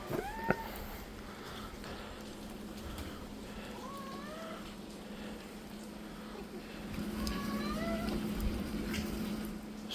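Cats meow during rain, several drawn-out, rising and falling cries scattered over a steady wet hiss, with a low indoor hum underneath.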